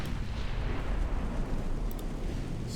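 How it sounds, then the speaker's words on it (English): Battleship secondary guns trading fire in Ultimate Admiral Dreadnoughts rumble as a dense, low, rolling barrage of distant booms, continuous and heavy with no clear separate shots, and no talking over it. "Secondaries exchanging fire."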